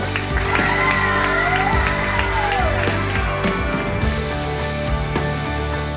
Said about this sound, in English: Give me a round of applause for Mr. and Mrs. Amanda and Chad Heller